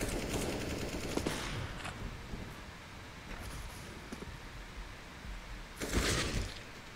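Gunfire in Counter-Strike: Global Offensive, a few sharp shots and short bursts scattered over a quiet background hiss, with one louder burst near the end.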